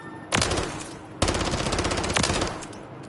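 Rapid automatic fire from a new SMG in Modern Warfare 3, two loud close bursts with a brief gap between them, each a dense rattling stream of shots, with no talk over them.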